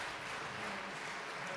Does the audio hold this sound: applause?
yes